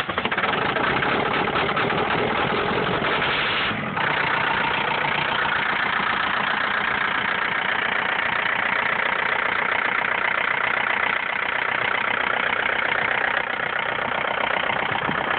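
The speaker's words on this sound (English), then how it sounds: "I don't even know if my tractor will get through this stuff." A tractor engine runs steadily in deep snow, a constant close mechanical drone with a brief dip partway through, with no talking over it.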